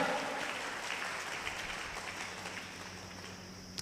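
A church congregation claps loudly together, a dense steady wash of applause at moderate distance that fades slightly over a few seconds.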